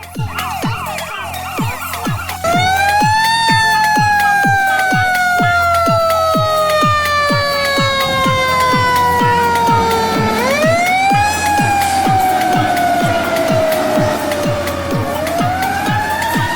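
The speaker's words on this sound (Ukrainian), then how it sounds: "пожежна машина" A loud fire engine siren wails nearby, its pitch sliding slowly down and sweeping back up, over a rhythmic pulsing engine drone.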